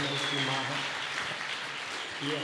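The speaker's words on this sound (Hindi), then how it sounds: "तालियां बजा दो आयुर्वेद के चमत्कार का।" Applause from an audience at a live health-awareness demonstration, a dense and steady clapping that lasts the whole moment at moderate level, mixed with background voices.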